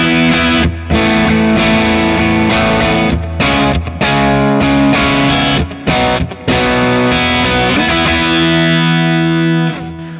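An electric guitar plays a clean tone through a Line 6 HX Stomp with reverb and delay, strummed chords ringing out with brief gaps between phrases, loud and close, with no voices.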